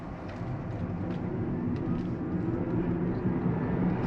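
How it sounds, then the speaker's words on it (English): BYD Seagull (Dolphin Surf) electric car accelerating in sport mode, heard from inside as a steady low motor and road hum with some wind noise, fairly loud and continuous throughout, with no talking. "I'll do a quick acceleration over here"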